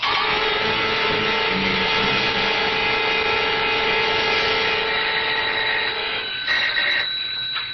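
A doorbell rings in an old-time radio mystery drama, a sustained buzzing, tonal ring that holds steady for about six seconds before breaking up and fading.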